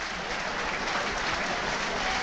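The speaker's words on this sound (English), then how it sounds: "a round of applause here" Football crowd applause at a Hartlepool United versus Eastleigh match, a brief, steady wash of clapping from a large stadium audience heard at a distance.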